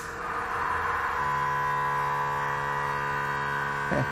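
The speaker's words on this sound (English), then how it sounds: "We hear the compressor kick on" An Air Lift WirelessAIR air compressor for air helper springs runs with a steady, loud electric hum and buzzing drone that holds continuously, with a brief rattle near the end.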